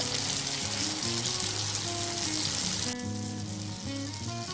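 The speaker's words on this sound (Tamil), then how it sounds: "இந்த ஆனியன் வந்து நல்லா டீப் ஃப்ரை ஆகணும்" Onions deep frying in hot oil for a pressure-cooker mutton biryani, a loud continuous crackling sizzle with bubbling that dips slightly in intensity partway through, no talking.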